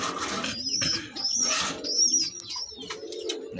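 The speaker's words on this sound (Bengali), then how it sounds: "এটা আমার একটা জিরা গলা প্যাটার্নের কবুতর" Pigeons of the zira-neck (cumin-throat) pattern coo softly in a loft, with a few bursts of wing flapping mixed in over steady background noise, no talking.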